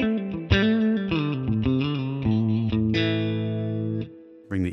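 A guitar runs through a Mesa/Boogie California Tweed amp model in Amplitube 5 with no EQ, playing a short phrase of picked notes ending on a long ringing chord, then a brief restart, close and alone.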